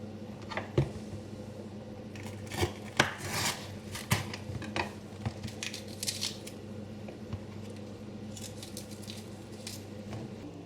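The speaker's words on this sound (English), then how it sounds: "So just remove the membrane from inside the chilies." A knife cuts and scrapes the membrane out of lengthways-sliced chillies on a board, prepared for Bangladeshi courgette and chilli fritters. It makes close, irregular taps and soft scraping clicks over a low steady hum, with no talking.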